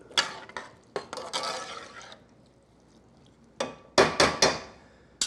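Spoon stirring water and ingredients in a pot while cooking, scraping and clinking in short bursts, then a pause, then quick knocks against the pot, close and without talk.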